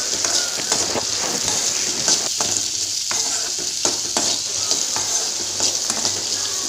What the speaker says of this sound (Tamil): இது எல்லாத்தையுமே நல்லா எண்ணெயிலேயே பச்சை வாசம் போகிற வரைக்கும் நல்லா வதக்கி விடலாம்